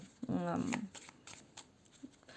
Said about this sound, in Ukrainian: І так, всі карти я ретельно перемішую.